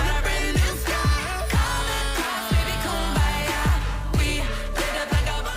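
A produced pop track plays with a thumping beat, steady bass, and layered synth and vocal melody, loud and continuous throughout.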